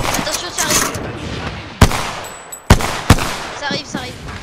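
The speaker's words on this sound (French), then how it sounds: "On me tire dessus." Gunfire in the video game Apex Legends: three sharp, loud shots stand out over a noisy game mix, with a further faint burst near the end and a busy, dense battle background.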